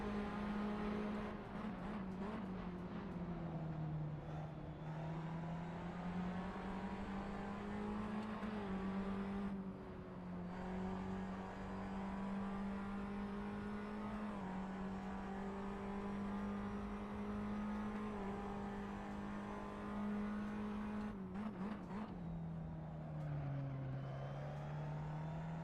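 Race cars circling Zandvoort circuit in a racing video game: a steady, loud engine drone that holds near-constant pitch for most of the stretch, dipping and rising a few times, with no talk over it.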